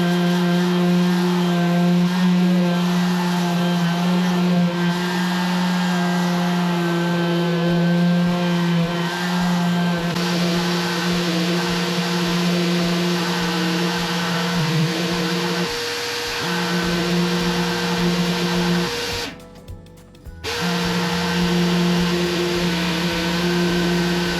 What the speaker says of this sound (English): I have duct taped my Hyundai vacuum onto the sanding pad